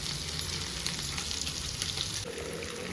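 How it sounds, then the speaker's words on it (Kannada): Chicken fries in a pan toward golden brown for a butter garlic chicken dish, a soft, even sizzle and crackle that runs throughout, fairly quiet and with no talk. "ಈ ಥರ ಗೋಲ್ಡನ್ ಬ್ರೌನ್ ಆಗೋ ಥರ ಫ್ರೈ ಮಾಡ್ಕೋಬೇಕು"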